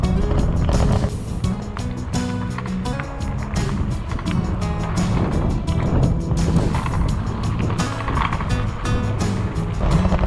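A PUCKIPUPPY Bulldog e-bike rolls over a really bumpy driveway, making a loud, continuous rumbling roar of tyres and frame with uneven jolts and rattles throughout.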